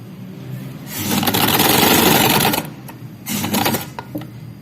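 A sewing machine runs a long basting stitch on a kameez pocket, loud and close in a sustained whirring run of about a second and a half, a brief pause, then a shorter burst.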